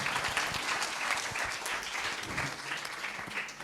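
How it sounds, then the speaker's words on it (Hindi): A crowd at a diocesan Bible festival claps loudly and steadily throughout, with dense applause and no clear speech. "सबों के लिए एक जोरदार तालियां"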